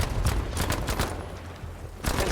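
Gunfire in the Battlefield 5 video game, a run of sharp bursty shots fired in quick clusters, with a pause before a final burst near the end, loud and close.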